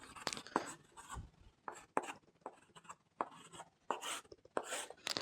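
Pen writing on paper during a Vedic multiplication lesson, heard as a run of scratchy strokes and taps with short pauses between them, close and fairly quiet, with no talking.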